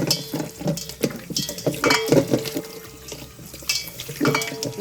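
Tap water runs into a bowl of lemon-squeezed chicken pieces being washed in a kitchen sink, an uneven splashing close by with sloshing bursts and faint clinks of dishes.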